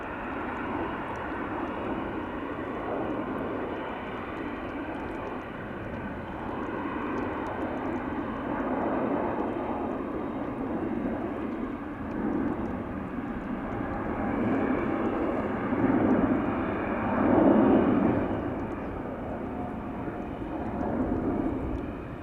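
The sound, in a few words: KLM jet aircraft taking off from Polderbaan runway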